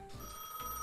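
A telephone rings at the booth of a gas station in a video game, a steady electronic ring held at a fairly quiet level with no talking.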